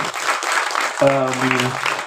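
Audience applause at a Tamil album launch event, a steady wash of clapping across the whole span, with a sustained tonal sound, like a held musical note, entering partway through.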